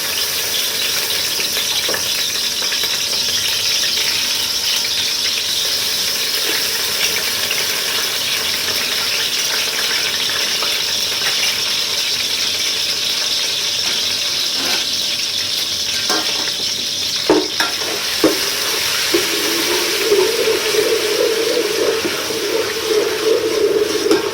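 Loud, steady sizzling and frying of garlic-ginger paste in a hot pan goes on throughout, with a few scraping clicks of stirring near the end.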